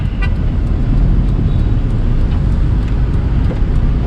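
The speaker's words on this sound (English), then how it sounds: "So the traffic's a little bit crazy." Busy Istanbul street traffic slowed by nearby protests, a dense, continuous roar of engines and road noise with short car horn toots breaking through, close and loud throughout.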